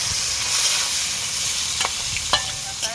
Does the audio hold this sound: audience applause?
no